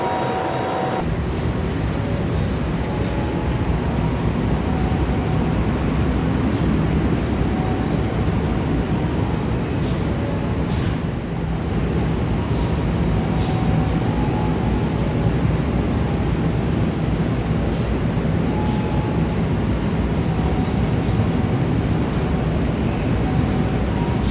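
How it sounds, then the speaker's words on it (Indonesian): A Banyubiru economy train pulls into a station from the Semarang Poncol direction, a loud continuous rumble of rolling wagons with periodic sharp clicks of wheels over rail joints throughout. "rangkaian kereta Banyu Biru persiapan masuk jalur 1 datang dari arah stasiun Semarang Poncol"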